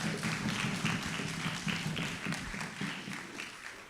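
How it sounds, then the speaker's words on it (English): A Youth Parliament audience gives steady applause during a sitting, a moderately faint but continuous wash of clapping with a loosely rhythmic pulse running throughout. "I think that deserves another round of applause"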